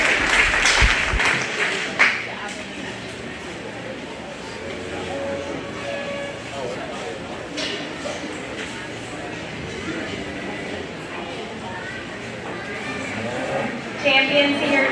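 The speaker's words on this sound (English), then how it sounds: "give all those kids a nice round of applause again" A crowd in an arena at a 4-H and FFA youth cattle show claps for the young exhibitors, a short burst of applause followed by an announcer speaking over the arena's background noise.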